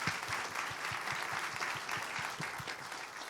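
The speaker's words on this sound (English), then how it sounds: "So if you could please give them a little round of applause." A church congregation claps through a Sunday service, steady and sustained applause filling the room at a moderate level, with no voices rising above it.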